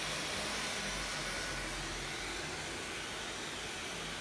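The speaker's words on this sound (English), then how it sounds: "How do you like the Dyson hairdryer?" A Dyson hairdryer blows steadily in a hair salon during a layered bob haircut, a loud close whooshing hiss that holds without a break.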